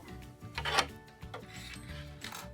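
Presser foot being changed on a sewing machine for a top stitching foot, giving a few short metallic clicks and clunks against a steady background hum, with no talking.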